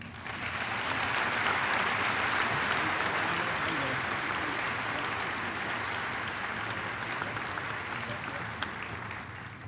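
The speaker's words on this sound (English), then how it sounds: "help me in congratulating her again with a round of applause" Audience applause for the salutatorian at the 2007 Wadsworth High School commencement: a steady, dense wash of clapping from a large crowd that holds for the whole span and fades slightly toward the end.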